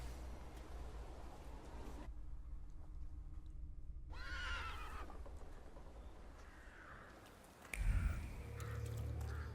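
A horse whinnies amid steady game ambience in The Thaumaturge, with a low thump and rumble near the end.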